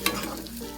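Karela (bitter gourd) sabji with finely chopped coriander and tamarind being stir-fried in a pan gives a brief, soft sizzle and scrape of stirring, with no talk.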